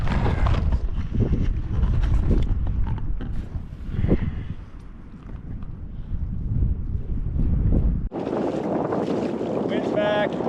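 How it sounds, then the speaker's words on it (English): Strong wind gusts roar across an open lake around a kayak out trout fishing, a loud, steady rushing that buffets the microphone throughout, followed by a brighter, harsher section of noise near the end. "Wind's back."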